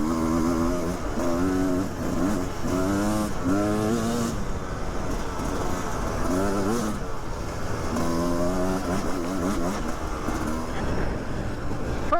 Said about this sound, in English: I'm on the 2021 Beta 300 RR racing